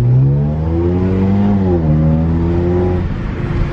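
Straight-piped Ford Fusion exhaust accelerating, a loud close engine note that climbs in pitch through the revs, dips briefly as if shifting, then climbs again, with no talk.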